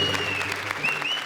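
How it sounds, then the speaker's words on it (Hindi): A studio audience at a televised comedy show claps loudly in a brief, dense burst, with a faint whistle riding over the applause. "जोरदार तालियां"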